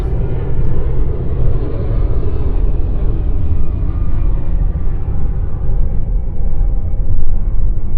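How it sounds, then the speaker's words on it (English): A steady low rumble of a plane's engines passing overhead, constant and broad, with no voices. "Look at this plane. Look at that. Making all that fucking noise in my video."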